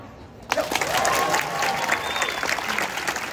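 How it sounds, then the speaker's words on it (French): A street audience at a festival of street artists in Vevey, Switzerland, bursts into applause for a diabolo act, sustained clapping that starts suddenly and carries on with faint voices in it. "Dès que le diabolo atterrit sur le fil,"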